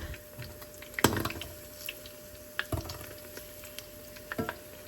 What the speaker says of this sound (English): Let's see see how these are frying up.